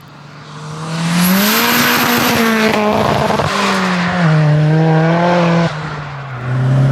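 A Ford Escort Mk6 with a swapped Focus RS turbo engine, about 360 bhp, revs hard and climbs through the range to the redline, loud and close, with a high turbo whistle over the throaty roar.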